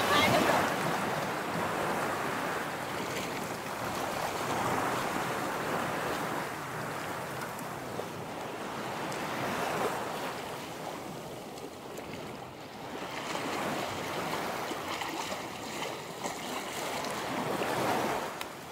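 Gentle sea waves wash against a rocky shore at Côn Đảo, rising and falling in soft, steady surges with light wind noise on the microphone and faint voices at times.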